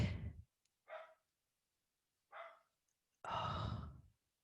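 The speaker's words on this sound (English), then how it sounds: "Oh, puppy's barking." A puppy barking nearby: four short, hoarse yips spaced by pauses of silence, the last one longer and fuller, all fairly faint.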